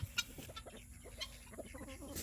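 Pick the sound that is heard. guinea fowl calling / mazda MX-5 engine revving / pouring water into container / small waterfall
guinea fowl calling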